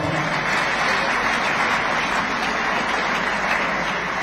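A crowd at a Catholic men's organization gathering gives a dense, steady wash of applause. It is loud and unbroken for several seconds, with no break or swell.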